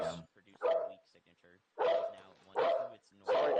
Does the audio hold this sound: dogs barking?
yes